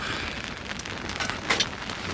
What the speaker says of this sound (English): Now it's raining again, so that's great.